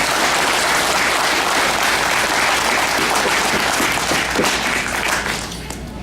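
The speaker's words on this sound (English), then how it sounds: "So let's give her a round of applause for that." A large audience at a college graduation ceremony applauding, dense sustained clapping that fills the room at steady loudness and begins to taper off near the end.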